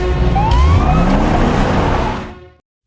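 An ambulance siren in a film wails loud and steady as the vehicle sets off, its pitch sliding and rising over a rumbling engine, then it cuts off quickly into silence.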